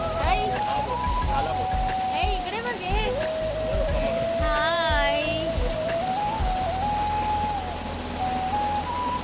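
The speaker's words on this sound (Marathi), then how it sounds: "बघा किती पाऊस लागतो" Steady heavy rain hisses throughout at a weekly market in Kargil, under a voice speaking and humming, with some clatter in the background.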